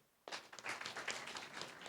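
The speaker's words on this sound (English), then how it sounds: "Let's clap for the program itself." An audience at a Mau conservation event bursts into applause, a dense, steady clapping that begins abruptly and carries on at moderate distance.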